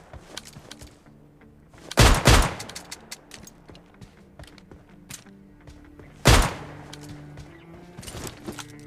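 Gunfire in the mobile battle-royale game PUBG Mobile Lite: two loud, close bursts of rapid shots a few seconds apart, with lighter clicks and thuds between them.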